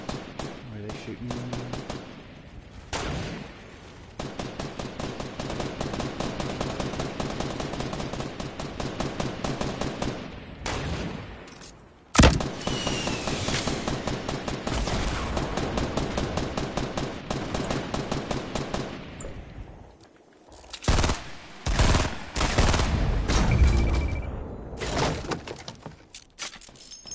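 Rapid gunfire in the video game Fortnite during a 50v50 battle royale match, long loud bursts of automatic fire with short pauses and single shots, close and dominant, with a voice talking at times.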